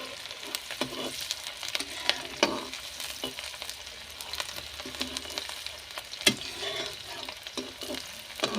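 Tomato and ginger tempering for a round gourd (chappan kaddu) curry fries in a pan while being stirred, giving a steady close sizzle with scraping strokes and occasional sharper clinks, and no voices.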